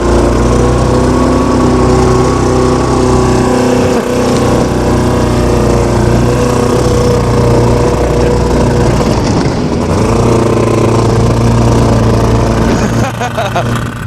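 A roughly 50-year-old twin-track concept snowmobile engine runs cold at close range, a loud steady buzzing drone with slight wavering throughout, voices speaking under it.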